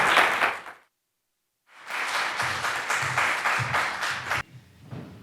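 An audience applauds the 2023 National Teacher of the Year at a panel event, a burst of clapping that stops briefly, then swells again into a steady, fairly close round before tapering off.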